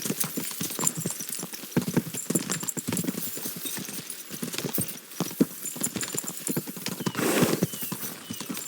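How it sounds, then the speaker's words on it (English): Horses gallop in Kingdom Come: Deliverance 2, their hooves clip-clopping in quick, uneven beats close by, with a horse whinnying near the end. "We should spur the horses on."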